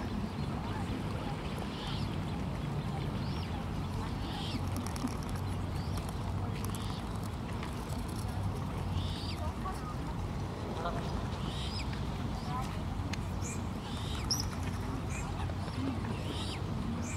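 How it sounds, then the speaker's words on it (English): Outdoor waterside ambience with scattered honks, quacks and calls from geese, swans, coots, moorhens and ducks at varying distances over a constant low rumble. "There are geese and swans and coots and moorhens, plus a few ducks"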